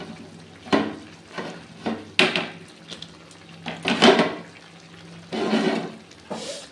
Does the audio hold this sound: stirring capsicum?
yes